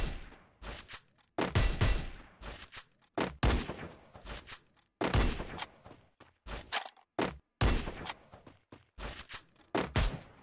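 Gunfire from AC-80 and Dragunov weapons in the video game Free Fire, with irregular bursts of sharp, loud shots separated by short silences, some clustered into rapid volleys, with no talk.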